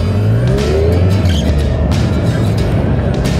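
Cars pass on a busy street in Germany, heard from a ZZR 600 motorcycle as a loud, steady traffic rumble with swelling engine noise and hiss, and no voices.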